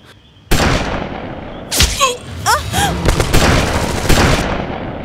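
Gunfire in a film scene: a sudden loud volley opens, then rapid shots and bursts continue densely throughout, with a voice briefly heard over the shooting.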